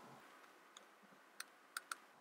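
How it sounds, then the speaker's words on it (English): Calculator keys are pressed in a few sharp, quiet clicks, the last two close together, in an otherwise near-silent room. "Typing that into my calculator"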